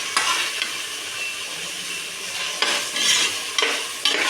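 Onions frying in a pan for vegetable biryani, a continuous close sizzle broken by several scraping stirs of a spoon against the pan, loud and without any voices.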